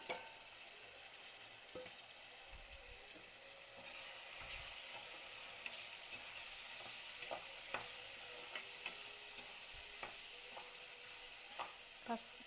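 Onion masala with cashew pieces sizzles steadily in a kadai, a continuous hiss of frying with occasional soft stirring clicks and scrapes, close and alone.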